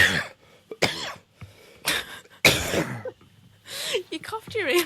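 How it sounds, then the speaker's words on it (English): Several hard coughs, close and loud, break up repeatedly over five seconds, with bits of talk in between. "I can't get rid of this cough."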